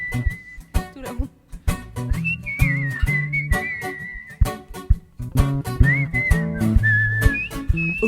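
Whistled tune carried by people at a live performance, a clear melodic line of sustained and sliding notes over a bouncy accompaniment with rhythmic thumps, loud and near.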